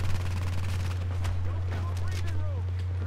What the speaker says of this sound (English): Shooting at these guys